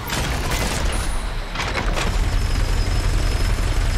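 A chain gun firing in DOOM Eternal: a dense, unbroken stream of loud, rapid shots with heavy booms, close and continuous throughout.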